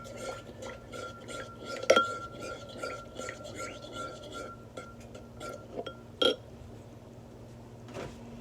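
A spoon stirs and clinks against a glass while mixing a matcha drink in a home kitchen, rhythmic scraping taps with a couple of sharper knocks and faint voices underneath.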